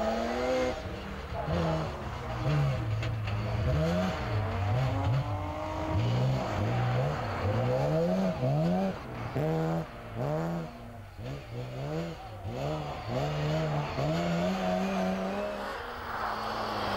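Rally cars tear around the Kouvola trotting track spectator stage, engines revving hard and rising and falling in repeated bursts as they shift and corner, close and loud throughout.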